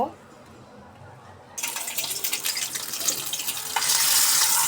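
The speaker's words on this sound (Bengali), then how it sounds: "ডিমটা কিছুক্ষণ ভেজে নিচ্ছি" Egg frying in a pan with potatoes, onion and ground spices: quiet at first, then a sudden loud sizzle that swells further near the end, close by.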